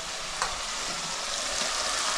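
Masala paste fries in a pan for a mutton thali, giving a continuous close hiss and sizzle with faint stirring scrapes.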